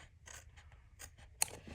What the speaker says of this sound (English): So now I'm going to just take my scissors and trim.